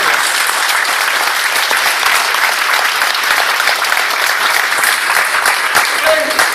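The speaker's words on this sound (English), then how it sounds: "Give a round of applause." Sustained applause from an audience at a session held at Microsoft, a dense steady wash of many hands clapping at even loudness throughout, with faint voices mixed in underneath.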